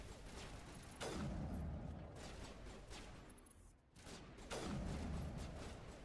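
Gunfire in Mass Effect Legendary Edition: two heavy blasts with long decaying tails, a few seconds apart, over steady background battle noise, fairly faint overall.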